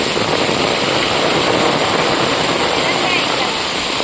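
Loud, continuous roar of floodwater after heavy rain in Tirunelveli district, India, dense and unbroken, pouring past close by near a bridge.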